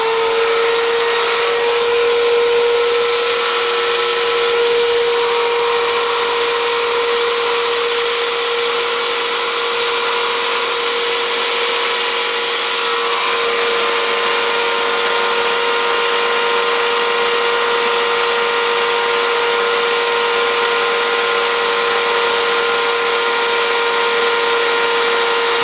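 A wood router running on a router table gives a steady high-pitched motor whine with a strong constant tone, loud and unbroken throughout.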